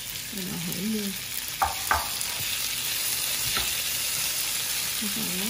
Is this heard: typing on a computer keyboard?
no